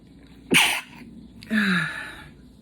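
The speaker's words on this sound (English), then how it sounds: "I'm sorry, I'm about to sneeze." Two sharp sneezes a second apart, close and loud, the second drawn out with a trailing vocal tone.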